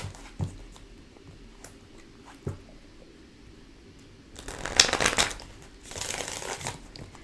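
Tarot cards are shuffled by hand in two brisk bursts of riffling and rustling, close and fairly quiet, after a few soft taps and handling sounds.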